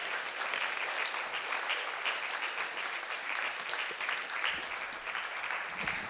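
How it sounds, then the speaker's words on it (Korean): Steady applause from a church congregation during a Sunday worship service, sustained and fairly even across the whole stretch, with a faint voice underneath. "박수로 격려해 주시기 바랍니다."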